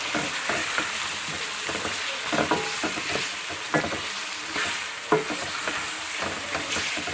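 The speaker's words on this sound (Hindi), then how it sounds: "अभी हम तकरीबन 5 मिनट तक इसमें पकाएंगे चिकन को" Chicken with ginger and garlic frying for kadhi in a pan, a steady sizzle broken by repeated scraping and clinking of a spoon as the pieces are stirred, close and continuous with no talk.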